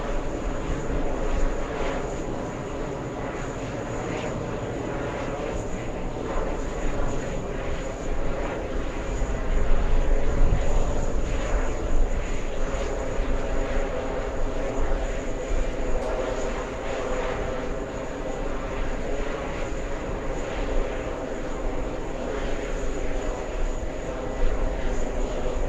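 A Virgin Atlantic passenger jet from Manchester lands with a continuous engine roar that swells around the middle and then holds steady, heard from an airport vantage point.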